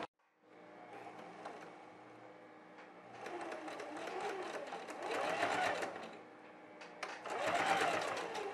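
A sewing machine stitches a seam on a girl's dress, running in a steady whirring hum that grows louder in two longer surges, close by with no voices.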